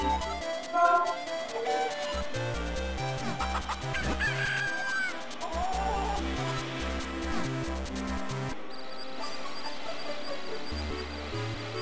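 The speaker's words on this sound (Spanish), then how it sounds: "¡Kikiriki!" Rooster crowing and chickens clucking from The Legend of Zelda: The Minish Cap, steady and fairly loud across the clip alongside game music, with no talking.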